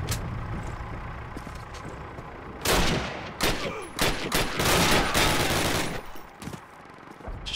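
Gunfire in a Call of Duty game: a few loud, sharp bursts of shots and rattling volleys after a quiet stretch, close and harsh, without talk.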